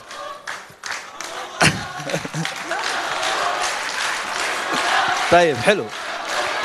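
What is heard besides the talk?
audience cheering and applauding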